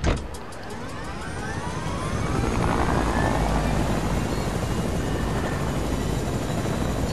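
A chopper's rotor and engine drone loudly in a battle royale style video game, a sustained mechanical whirring that swells after a brief thump at the start and stays constant, no speech over it.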